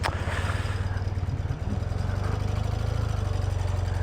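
A 1980s BMW Airhead motorcycle with a freshly rebuilt engine runs steadily in London rush-hour traffic, its low, pulsing throb loud and close throughout with a slight dip midway.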